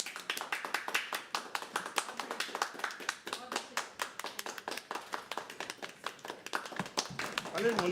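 Poetry open-mic audience at The Habitat claps in an uneven patter of individual hand claps, close and steady for several seconds, tapering at the end.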